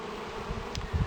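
Honeybees hum at an opened top bar hive during a spring inspection, a steady low buzzing drone with a few louder passes close by and no talk.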